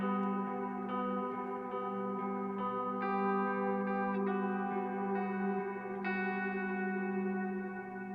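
Reverse reverb guitar in a long rock song outro, with sustained chords that swell and wash into one another. The layered, chorus-like tone holds steady and loud, with no talk over it.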